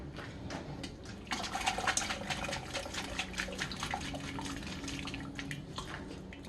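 Water pours out of a cooking pan in a home kitchen, a steady splashing, trickling stream that swells briefly and keeps running close by, with no voices.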